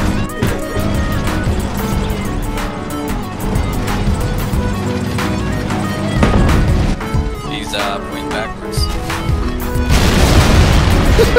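Tank cannon fire with armour-piercing shells in the war game Men of War: Assault Squad 2, heavy booms landing repeatedly over a dense, continuous wash of battle noise and music, with a louder burst near the end.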